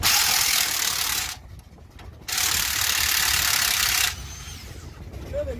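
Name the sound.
ratchet from a socket set turning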